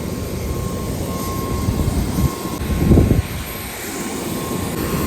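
An airliner's engines at Darbhanga airport give a steady, fairly close roar with a faint high whine running through it, swelling briefly louder about midway and then settling back.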